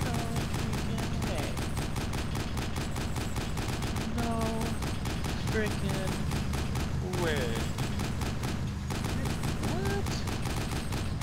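Rapid bursts of automatic gunfire in Arma 2 Overpoch run steadily through the whole stretch, dense and loud, while players talk over it.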